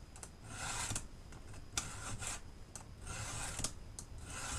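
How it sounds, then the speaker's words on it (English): A hand file sharpens the chisel teeth of a chainsaw chain, making a series of faint, close rasping strokes at an uneven pace with brief pauses between and no talk. "Remember that the file only cuts relatively in the forward direction"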